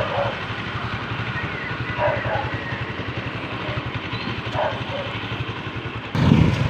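A broken-down motorcycle being towed on a rural road gives off a steady mid-pitched engine drone with a rapid, even pulse, some brief louder bursts over it, and a sudden gusty rumble near the end.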